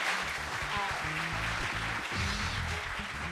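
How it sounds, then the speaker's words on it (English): An audience thanking MBA admissions panelists claps in a dense, continuous wash of applause, steady and moderately close throughout, with some low voices underneath. "Let's give them all a round of applause."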